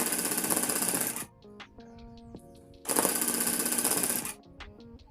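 Tufting gun running in two loud bursts of fast, buzzing rapid-fire stitching, separated by a quieter pause with faint clicks and a tonal hum.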